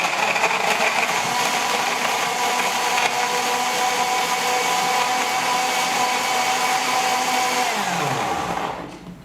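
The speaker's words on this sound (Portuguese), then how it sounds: "Aí eu jogo no liquidificador" A blender whirs steadily as it blends fruit with water, a loud continuous motor drone that holds for about eight seconds before winding down and slowing at the end.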